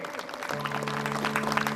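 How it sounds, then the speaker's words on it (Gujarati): Audience applause at a Shrimad Bhagavat Gyan Yagna celebration, a dense steady patter of clapping from a crowd, fairly close and swelling slightly over under two seconds, with faint droning voices or music beneath. "તાળીઓના ગડગડાટથી વધાવી દઈએ"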